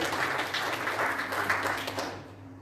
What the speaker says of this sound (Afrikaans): Come on, kom gee die Here 'n hande klap.